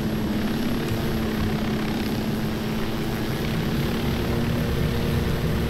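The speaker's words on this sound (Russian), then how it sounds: "смотрите, как высоко вертолет летит" A helicopter in the video game Ghost Recon Wildlands drones with a steady, loud rotor and engine hum that holds constant throughout.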